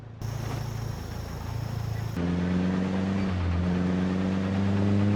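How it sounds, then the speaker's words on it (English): A vehicle engine in the game Past Expiring idles roughly and steadily, with a low droning hum that shifts to a heavier, uneven rumble partway through and keeps running without a break. "the engine is acting up"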